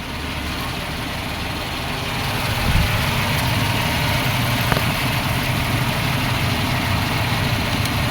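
A 1995 Suzuki Escudo engine idles steadily up close, a constant low hum with a slight lift in level partway through and no voices.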